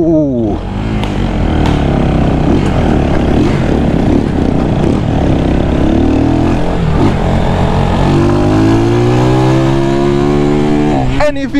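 A brand-new Missile 250cc motorcycle with a timing-chain engine revs loud and close on a test ride, its buzzing note climbing and dropping through the gears without a break.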